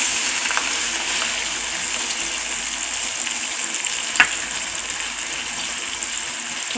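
Steady close sizzling and frying in a pan after tamarind juice is added, a constant hiss with faint stirring clicks and one brief sharper spatter, no talking.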